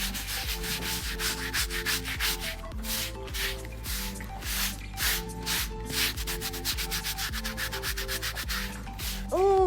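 A horse being scratched after oil is put on, heard as brisk, close rubbing strokes in rapid repeated bursts, with faint background tones underneath.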